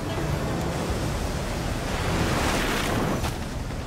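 River rapids rushing around a raft, a loud, steady, broadband roar of churning water close by, with no voices over it.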